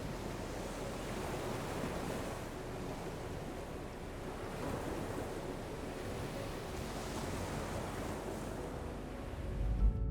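Continuous broad wash of ocean surf, rolling in slow swells of roar that rise and fall without pause, with a dull low rumble and a faint bump near the end; no voices.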